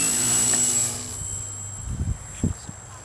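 A Gee Bee model airplane's engine and propeller whine at high pitch, fading after the first second, followed by a few low thumps and knocks nearby, with no talking.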